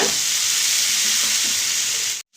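Spice masala for chana masala frying hard in a pan, a steady loud sizzle that holds unbroken and then stops abruptly at the very end.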